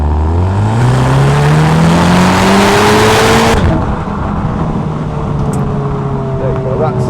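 A 2017 Audi TTS 2.0 TFSI Black Edition with S Tronic quattro accelerates hard along a straight road, engine note climbing steadily through the gears, loud and close from inside the cabin, then easing off as someone speaks over the steady road drone.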